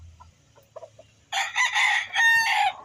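A rooster crows loudly and close by in a long, wavering cry, preceded by a few soft, scattered clucks and quiet background noise.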